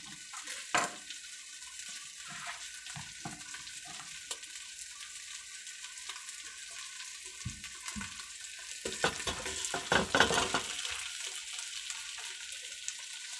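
Tomatoes frying with ginger garlic paste in a pan for prawn curry, a steady faint sizzle with occasional stirring clinks and scrapes, no voices.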